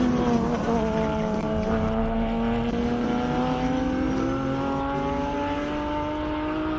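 A Mercedes-AMG GT3 race car driven by Ricky Giannoccaro climbs the Simola hillclimb course. Its engine is loud and close, giving a steady high-revving drone with strong harmonics that rise slowly through a long pull.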